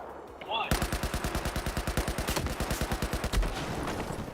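Automatic gunfire in the video game Warzone, fast and even rapid-fire bursts that hammer on for about three seconds before cutting off, loud and close.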